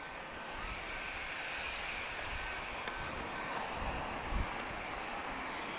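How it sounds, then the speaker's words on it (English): A Ryanair Boeing 737-800 arriving from London Stansted gives a steady, distant broadband jet roar that holds at an even level throughout. "inbound we've got Ryanair, Foxtrot Romeo 1882, arriving from London Stansted"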